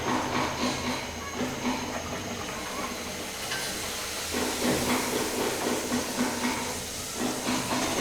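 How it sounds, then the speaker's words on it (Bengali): Luchi deep-frying in a pan of hot oil, giving a steady, loud, continuous hiss and bubbling that swells and dips slightly throughout, with no voices. "একটা পাত্রে তেল গরম করে আমি ডুবা তেলে লুচিগুলাকে"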